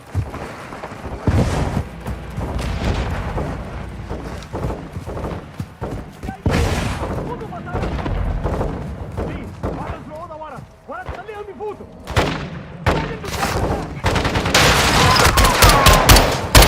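Rapid bursts of gunfire and rocket blasts from the DMZ video game campaign crackle loud and dense throughout, with shouted radio chatter mixed in amid the combat.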